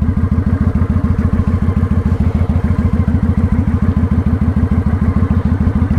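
A motorcycle engine idles close by as the throttle is let out, its loud, rapid, even thumping pulse running steadily throughout with a faint mechanical clatter on top.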